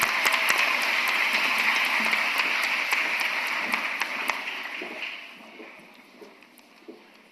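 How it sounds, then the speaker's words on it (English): Broad applause from a large graduation ceremony audience at Columbia College's spring commencement, a dense wash of clapping that stays steady and then thins and fades over the last few seconds with scattered final claps. "One more round of applause."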